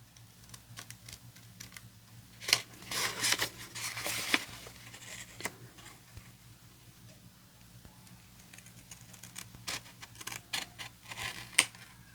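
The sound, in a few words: cutting with scissors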